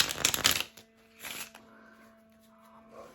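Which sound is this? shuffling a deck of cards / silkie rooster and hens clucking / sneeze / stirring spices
shuffling a deck of cards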